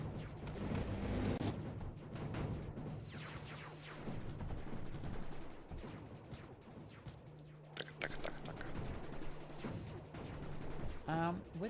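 Salvo turrets in the game Mindustry firing repeated crunchy bursts in quick succession, loud and close, with people talking over the shots.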